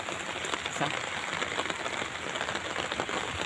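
Rain pours down steadily as a dense, even hiss of drops spattering on wet surfaces, close and continuous, with faint distant sounds beneath.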